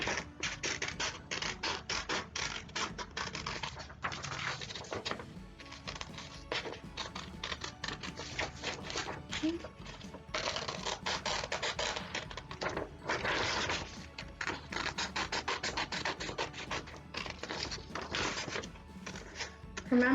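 Scissors cut around the edges of a paper umbrella shape printed on a sheet, giving steady close snipping and rustling scrapes that run almost continuously with short pauses.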